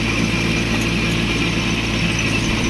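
A Massey Ferguson 728 tractor pulling a Shaktiman rotavator through a field, a loud, steady engine drone with a constant mechanical hum and no pauses.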